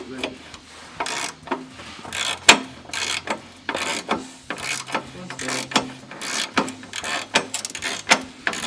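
Rapid ratcheting of a wrench tightening a bolt during an oil pan install, with repeated quick clicking bursts and metallic rubbing, close and steady, with a little talk in the background.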